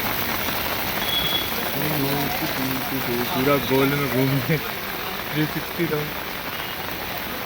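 Steady heavy rain falls in Delhi as a constant hiss throughout, while people talk over it in the middle.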